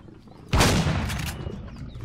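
A single heavy shotgun blast from the video game Empyrion, loud and sudden, its boom rolling out and decaying over about a second and a half.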